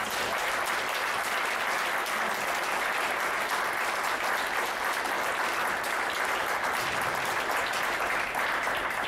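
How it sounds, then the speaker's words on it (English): Sustained audience applause fills the room at a student free speech event, steady and dense clapping throughout with no pauses. "Round of applause for these people."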